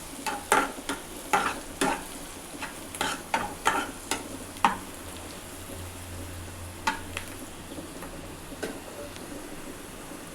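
A spoon stirs chili powder into a sizzling mixture in a frying pan, with clusters of sharp scraping taps against the pan in the first few seconds, then sparser strokes over a quiet low sizzle.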